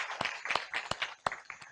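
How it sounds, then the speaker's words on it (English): A small audience claps at an industrialization dialogue meeting in Bungoma, a short run of distinct, uneven hand claps. "Can we please clap with courage?"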